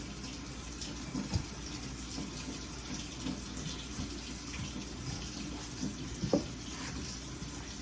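A tap runs over a hand at a steady, moderate level, a continuous rushing spatter from the faucet with a few soft knocks and splashes mixed in, with no speech.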